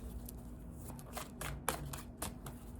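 Tarot cards are shuffled by hand, giving soft, close papery riffles and flicks in short bursts with faint background hiss.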